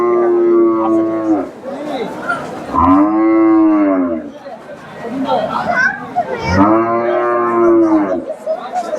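A cow at a livestock market in Faridpur, Bangladesh moos loudly several times, long drawn-out bellows close by, with people chattering in the background.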